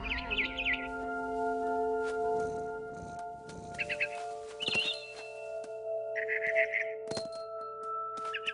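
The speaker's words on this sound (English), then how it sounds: "Then I heard chirping outside my window. It was a barn swallow going back to her nest." Short clusters of bright chirps from a barn swallow in the game What Remains of Edith Finch come at irregular intervals over soft sustained musical tones, fairly close and clear.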